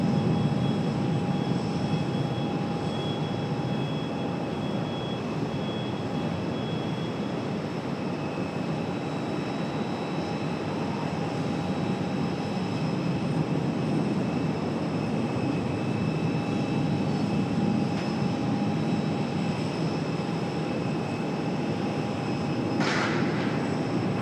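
An Airbus A321 jet airliner takes off from Raleigh-Durham International, a steady broad engine roar that holds at a constant level throughout, heard from a distance with no voices.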